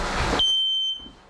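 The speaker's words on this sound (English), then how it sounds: "So in an open flaming fire, the ionization detectors go off quicker." A smoke detector sounds during a fire department's test of ionization detectors in an open flaming fire: a loud burst of fire noise cuts off, then a sharp, steady high electronic tone rings for about half a second and fades.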